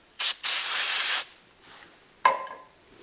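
Aerosol brake cleaner sprayed onto a Chevy Suburban's front brake rotor in two loud hissing bursts, a short one then a longer one of about a second, followed by fainter rubbing and another brief spray.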